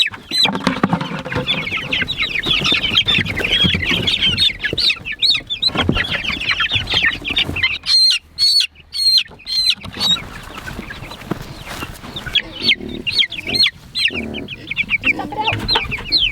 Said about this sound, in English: These chickens are 4 weeks old now.